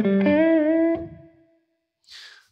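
Electric guitar blues lick in a major pentatonic position: a burst of sustained, bent, vibrato notes with a slight effects edge, decaying after a second, then a short noisy scrape.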